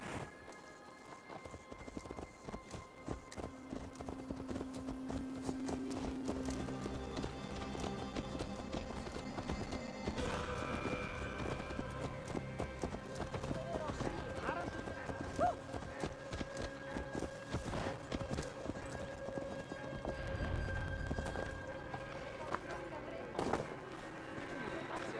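Horse hooves clip-clop in the Assassin's Creed Valhalla video game, a steady rhythmic trot under game music and ambience, with a heavy thud near the end and speech heard alongside.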